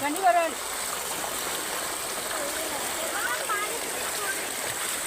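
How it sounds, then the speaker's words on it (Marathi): Water flows steadily through a flooded rice paddy with a continuous close trickling and gurgling rush, while people talk over it at moderate level. "आता आमचा हा पर्या, हे बघा कसं मस्त पाणी बघा"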